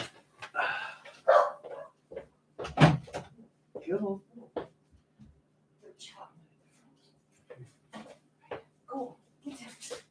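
Several dogs barking indoors in short irregular bursts, some loud and close, with someone talking quietly in between.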